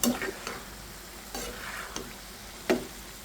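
Taro and eggplant stirred in a pan of hot oil, with a soft sizzle broken by a few sharp scraping clinks of the spoon against the pan.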